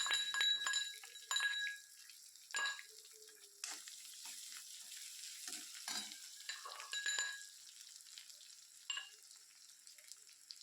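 Crushed ginger and garlic are sautéed in oil for a cluster beans dish, giving soft sizzling with intermittent stirring scrapes and light clinks, faint and close, with quiet gaps between.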